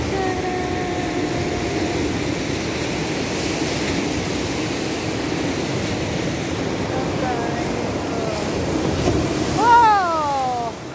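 Ocean waves at high tide on Galas Beach, Dipolog City, keep up a continuous broad wash with wind noise, loud and unbroken, and a brief whistle-like tone near the end.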